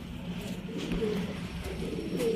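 An old Lakha pigeon coos softly and low, with faint repeated calls over a steady background hum, close but quiet, with no talking.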